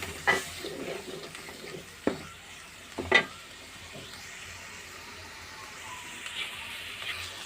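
Turmeric and chili powder sautéing in a pan during home vegetable cooking. A faint, steady sizzle with a few sharp stirring scrapes and clinks against the pan, close by.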